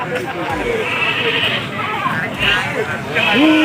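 Goats bleat amid the hubbub of a busy goat market, the calls rising now and then over constant crowd chatter and nearby talk.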